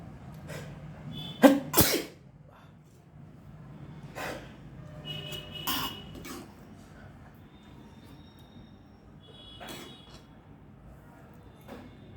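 A man sneezes from pungent dried red chilli and curry leaf tempering fumes: a loud double sneeze near the start, then softer sniffs and smaller bursts spread over a quiet stretch, close by with no speech.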